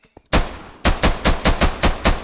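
Pistol gunfire from a SIG P320 in a Minecraft gun mod: a loud opening shot, then a rapid, steady string of about seven sharp reports, each ending in a short tail.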